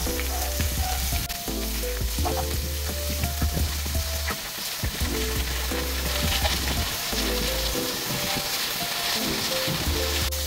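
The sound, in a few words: pork belly (liempo) frying in a pan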